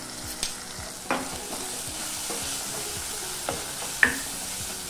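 Potato chunks for curry fry in hot oil alongside tomato, a steady sizzle broken by several scraping stirs of a spoon in the pan.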